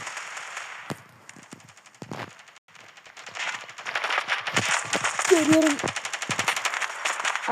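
Rapid automatic gunfire bursts from the mobile shooter game Standoff 2, sharp rattling volleys that thicken toward the end, with excited players shouting over the shots.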